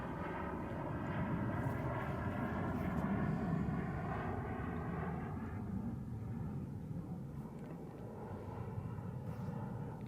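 A KRILL ARES L twin RC jet drones steadily overhead on its maiden flight, a continuous turbine roar with a broad rumbling body and faint whining tones, holding level and slightly easing toward the end.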